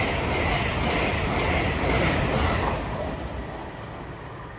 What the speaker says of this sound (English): Next service pass through is an LNER service off to Edinburgh Waverley.